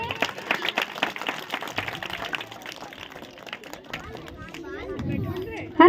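An audience claps at a school children's day annual event, a dense burst of applause that thins out and gives way to a voice over a microphone.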